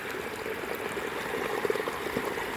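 Soft, steady flow of irrigation water trickling and gurgling through a shallow farm field channel, quiet and continuous with small splashes.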